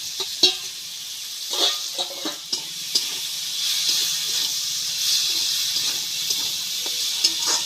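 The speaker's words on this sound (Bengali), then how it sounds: "ভাজা মূলোটাকে আমি এতে ঢেলে দেব" Fried radish tipped into a pan of moong dal with radish, setting off a steady close sizzle and hiss with scattered stirring clatter throughout.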